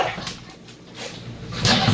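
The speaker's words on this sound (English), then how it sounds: "10-month-old German short-haired pointer." A 10-month-old German short-haired pointer puppy whimpers and whines indoors, with soft intermittent cries that swell louder near the end, close by and with no talk over them.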